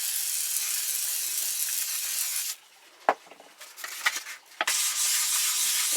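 1200 grit sandpaper rubs over Suzuki Bandit 1200 rearsets, a steady close abrasive hiss that pauses for a few seconds with light knocks and handling, then resumes.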